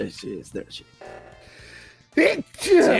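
A sneeze bursts out twice near the end, short and loud, during online chat over an Among Us game session, with speech before it.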